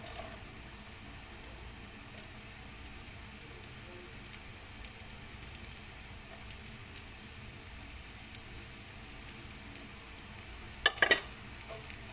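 Carrots and other vegetables sauté in a pan for vegetable fried rice, giving a continuous soft sizzling hiss with a quick pair of utensil clicks near the end.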